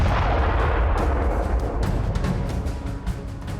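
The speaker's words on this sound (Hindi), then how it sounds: "सूमी में रह रहकर बम धमाकों की आवाजें गूंज रही हैं।" Repeated booms from bombs and artillery fire in the city of Sumy during Russian missile and rocket strikes, a continuous loud rumbling barrage with heavy low-end thuds and no speech.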